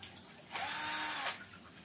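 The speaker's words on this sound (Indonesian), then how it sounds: "menggunakan bor cordless 12 volt, ini masih mampu" A 12-volt cordless drill bores into a cast concrete balcony ceiling slab, giving one steady, loud whining burst of about three-quarters of a second, clearly separated from the quieter surroundings before and after.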